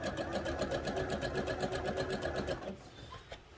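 A sewing machine runs steadily, stitching the seams of wrestling tights with a fast, even mechanical whir, then stops abruptly near the end, leaving a quiet room.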